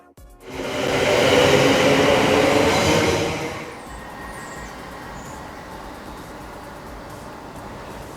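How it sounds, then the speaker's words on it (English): Loud broadband rumble of a passing passenger train on a suburban line near Bournville station, Birmingham, builds quickly, holds for a few seconds, then falls away to a steady, quieter hum. "I hopped on a train from Kings Norton to the first station of Bournville."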